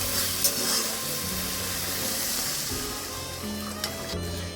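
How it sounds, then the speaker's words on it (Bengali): Water goes into a pan of fried spice paste for katla fish kalia, setting off a broad, even sizzle and hiss that holds steady with no voices. "মশলা আমার কষা হয়ে গেছে এবারে আমি সামান্য একটু জল দিয়ে দিচ্ছি"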